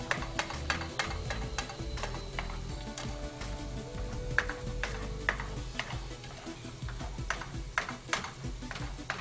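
Cheese melts and sizzles in a frying pan that is not very non-stick, a steady close frying hiss broken by scattered ticks and clicks of a utensil.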